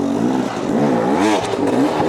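A dirt bike engine is blipped while riding over an obstacle, rising and falling in loud, close revving bursts with rattling clatter.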